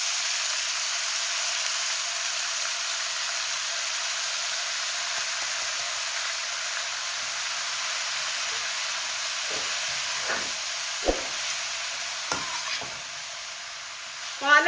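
Spinach stir-fries in a pan with cumin, a steady close sizzle and hiss with occasional scraping stirs and a few light clinks, no talking.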